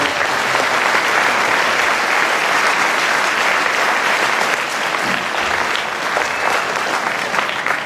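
A school audience at the St. Ignatius feast celebration claps loudly and continuously, dense sustained applause from a large crowd filling the whole stretch without a break.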